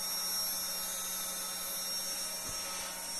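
DIY CNC router spindle running steadily at about 6,500 rpm, a quiet constant high-pitched whine with a faint electrical hum underneath, unchanging throughout.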